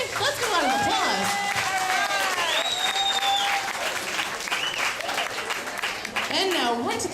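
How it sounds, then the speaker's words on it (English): An audience gives a round of applause after a scene, with clapping and some cheering running continuously under whistling, swooping tones and voices. "Let's give a round of applause"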